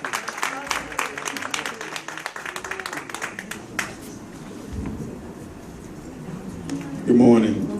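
A church congregation at a worship service claps hands in praise, a loose burst of rhythmic clapping with cheering voices mixed in that fades into murmuring and talk, then a louder voice near the end.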